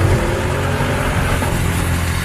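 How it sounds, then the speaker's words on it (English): An Audi RSQ8 with a 48-volt mild hybrid system roars under acceleration, a loud steady engine rumble heard close and continuous. "there's nothing that's going to keep you from pressing down on the throttle pedal and hearing that engine roar"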